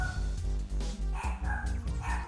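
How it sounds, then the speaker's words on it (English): A small dog barks in a quick series of yaps near the microphone during a live painting stream, the barks punching loudly over a steady background hum. "Tiny dog alert."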